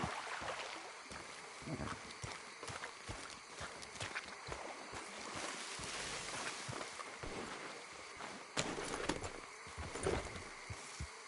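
Horse hooves clip-clop at a steady trot amid busy background noise and occasional snorts, moderately loud; a horse in the game Red Dead Redemption 2.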